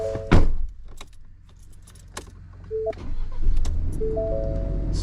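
A Ford Ranger pulled out in a recovery starts up after a sharp clack of keys or a door, then its engine catches and settles into a steady idle that rises slightly toward the end.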